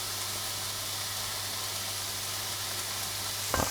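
Prawns (gambas) with piment d'Espelette sizzle in a frying pan for a crustless quiche, a dense, even hiss throughout that ends with a small clatter.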